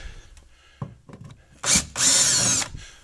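A power drill backs Phillips screws out of a 1965 Thunderbird convertible's interior trim, with a couple of short clicks, then a brief burst and a longer whirring run, close up.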